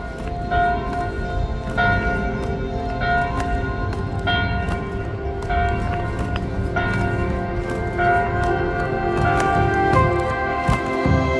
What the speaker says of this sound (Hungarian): reggel 7-kor harangszó törte meg a csendet